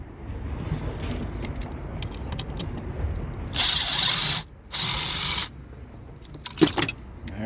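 A ratchet works loose the seatbelt bolts on a car seat during interior removal. Bursts of rapid clicking come up close, with two long cranking runs in the middle and lighter clinks and rustling around them.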